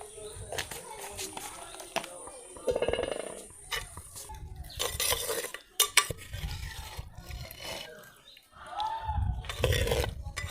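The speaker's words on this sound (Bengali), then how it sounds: "গরম মশলা ভালো করে মিশিয়ে নিয়েছি, এখন নামিয়ে নিব।" Handi chicken being stirred with garam masala in a pot, with spoon scrapes and clinks against the metal rising and falling in uneven bursts, close by, with faint voices in the background.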